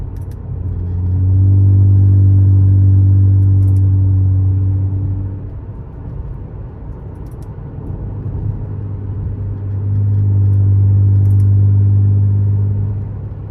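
An Acura TL with a custom exhaust cutout valve rumbles with a deep, steady drone that swells for several seconds, drops away, then swells again, heard alone without talk.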